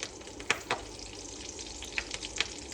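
Cut green chillies and curry leaves frying in hot oil: a soft, steady sizzle with a few sharp crackling pops, heard close up with no voices.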